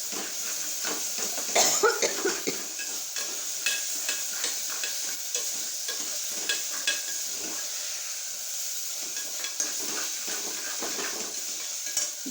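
Onion and tomato with turmeric and chilli powder sautéing in a kadai, a steady soft sizzle under repeated scrapes and clinks of a stirring spoon against the pan.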